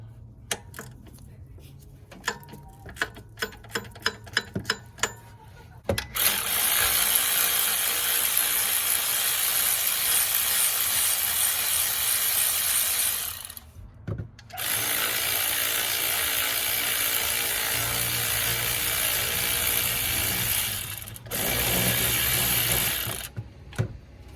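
Ratchet breaking loose alternator bolts on an early-2000s Chevrolet Silverado: a run of quick, sharp clicks, then long stretches of loud, continuous mechanical whirring with short pauses between them.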